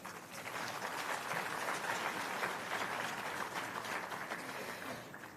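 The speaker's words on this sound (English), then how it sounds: "que nous remercions chaleureusement sous vos applaudissements" An audience applauds President Macky Sall, chair of the African Union, with a full, even burst of clapping from a sizeable crowd, fairly distant and steady before tapering off.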